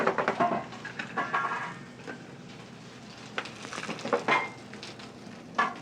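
Salmon and crayfish sautéing in a pan with fresh tarragon, chives, chervil and parsley, a steady soft sizzle punctuated by bursts of frying crackle and occasional utensil stirring, moderately close.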